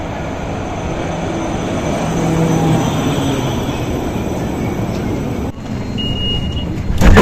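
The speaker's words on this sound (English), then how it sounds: "Let's ride a Metro Tram from Bochum to Gelsenkirchen." Inside a Metro Tram running on the Rhein-Ruhr Stadtbahn from Bochum toward Gelsenkirchen. Steady, loud rumble and rolling noise carry throughout, with a brief dip and a faint high tone near the end.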